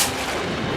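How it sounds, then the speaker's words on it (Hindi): A single loud gunshot sound effect cracks at once, then a booming echo decays over under a second. "ये तो गोली की आवाज है"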